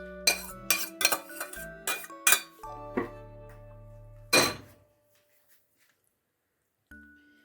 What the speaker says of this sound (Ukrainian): зараз я це все виливаю сюди. На картоплю.